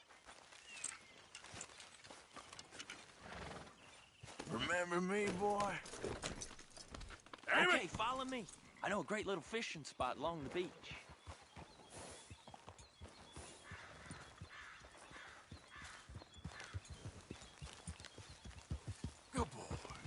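Hooves clip-clop as a horse walks through a video game scene, a rhythmic clopping running under in-game dialogue, with someone speaking and a horse's whinny-like sounds around the middle.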